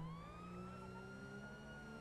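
A police siren wails in the video game GTA 5, a steady continuous tone that sounds fairly faint and distant with no talk over it.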